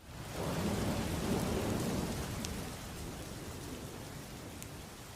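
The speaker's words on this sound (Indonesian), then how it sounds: "biar suara hujan yang ngomong buat kita" Steady heavy rain pours down with a dense hiss, and a low rumble of thunder swells early on before the downpour continues alone.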